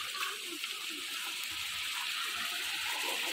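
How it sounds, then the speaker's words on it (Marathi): A clear stream of water flows through a muddy, grassy forest near a waterfall, giving a steady, soft hiss and gurgle that continues evenly and faintly throughout with no voices over it. "झरा इकडे, झरा हा बघा"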